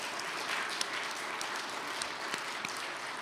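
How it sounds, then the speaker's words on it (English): Steady applause from a chapel audience during a visiting artist's appearance, a dense even wash of many hands clapping with a few sharper claps standing out, continuous and fairly loud throughout. "can we give a big round of applause to the wonderful Mrs."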